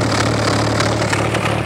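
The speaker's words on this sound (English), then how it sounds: "And here's the new exhaust setup for the truck." A Ford 300 truck engine idles with a low, steady droning rumble from a new, not fully welded muffler exhaust, close and continuous, with no talking.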